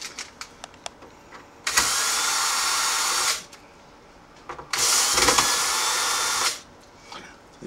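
Two sustained bursts of an electric screwdriver, each about two seconds, remove screws from the bottom panel of an Akai MPC 2000XL sampler laid on its face, with faint clicks and handling noises before, between and after.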